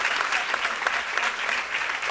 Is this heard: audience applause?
yes